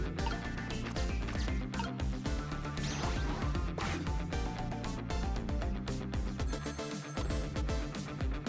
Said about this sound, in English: we should probably get to that phone before it stops ringing